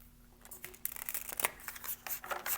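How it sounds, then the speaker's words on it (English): A deck of tarot cards being shuffled, with faint, soft riffling and papery flicks that continue steadily through a quiet, close-up moment. "let's give it one more good shuffle, shall we?"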